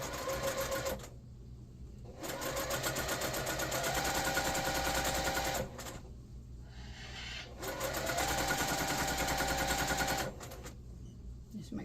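A sewing machine runs down the long side of a diamond table runner in two long, steady stitching runs with brief pauses between, close and loud.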